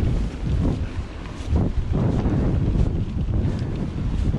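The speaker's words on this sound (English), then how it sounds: "with this wind. It's pretty intense." Strong, intense wind buffets the microphone during a mountain bike ride on a trail, a loud, continuous roar with gusty surges and no speech.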